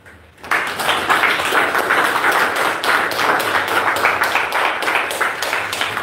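A church congregation claps together in steady, rhythmic unison, loud and close, starting abruptly after a brief quiet moment and continuing strongly throughout with no talking over it.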